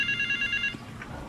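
A phone rings for an incoming call in GTA Vice City, a bright repeating electronic ringtone trill for most of a second, then it stops.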